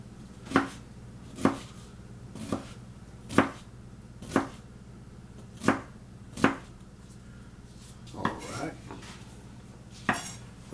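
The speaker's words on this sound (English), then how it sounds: "So let's start with the bell peppers. Get them a nice even cut." A knife chopping bell peppers on a cutting board outdoors on a cold day: about a dozen crisp, evenly spaced chops at roughly one per second, close and clear, with no talking.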